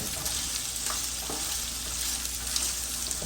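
Chicken, zucchini and pasta sizzle steadily in a frying pan while a utensil stirs them, with a few soft scraping strokes over the continuous close hiss.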